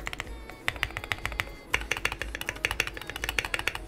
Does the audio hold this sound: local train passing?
no